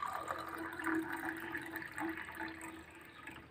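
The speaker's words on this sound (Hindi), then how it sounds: "इस गिलास में पानी डालूंगा" Water is poured into a glass for a potassium permanganate and hydrogen peroxide experiment, a steady trickling splash that runs for several seconds with small surges, close by and moderately loud, with no talk over it.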